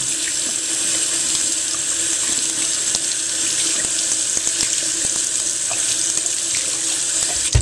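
Water runs from a tap into a sink in a steady stream while a makeup brush is rinsed, with faint clicks and small splashes and no voices.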